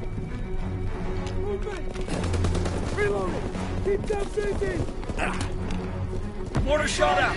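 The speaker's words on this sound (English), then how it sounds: "Strafing run inbound." Rapid gunfire and shots rattle loudly through a Call of Duty WW2 match during a strafing run, bursts layered over a constant battle din with voices talking throughout.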